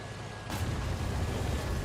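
A distant enemy tank cannon fires in War Thunder, one dull booming report rising from a steady engine rumble and fading into the low background drone.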